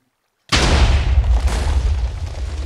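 A cannon explodes in a Minecraft ship battle: after a half second of silence, one sudden, loud, close boom hits and then trails into a long, heavy rumble that fades slowly.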